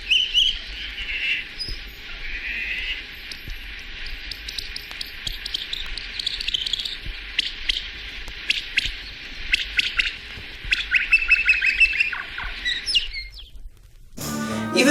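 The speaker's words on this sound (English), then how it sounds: "This song is sped up 14 times." Humpback whale song played back sped up fourteen times sounds like a dense stream of bird-like chirps, squeaks and trills, continuous and fairly loud, ending with a short burst of broadband noise.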